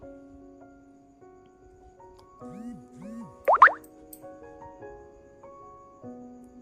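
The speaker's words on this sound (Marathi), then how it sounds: "आपण अगोदर बाहेरच्या साईडला हे मिश्रण टाकून घ्यायचं आहे" Rice and mixed dal batter dropped into the cups of an appe pan, with a few soft plops and a brief wet splat amid quiet kitchen hum.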